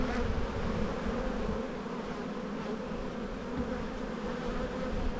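Honey bees droning at an open hive during a spring inspection in Australia, a steady dense buzz that stays loud and unbroken throughout.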